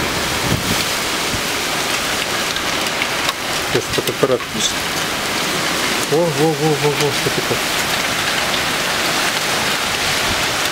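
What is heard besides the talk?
hail and rain storm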